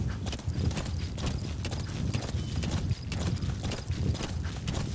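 Horse hooves galloping in the video game Metal Gear Solid 5, a continuous rapid clip-clop rhythm of hoofbeats, loud and close, with no voices over it.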